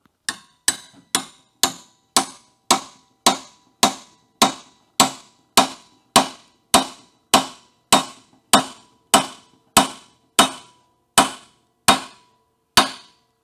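A two-pound hammer taps a metal part in a workshop to check its fit, about twenty sharp, ringing blows at an even, unhurried pace, each decaying quickly into silence.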